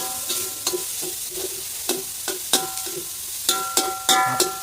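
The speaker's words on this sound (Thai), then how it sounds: "ใส่น้ำมันลงไปหน่อย ใช้เตาถ่านก็ได้ฟิวหน่อยนะคั่วหมูให้สุกครับ" Pork stir-frying in oil in a pan over a charcoal stove, a steady close sizzle broken by repeated sharp scrapes and clacks of a utensil against the pan, with no talk.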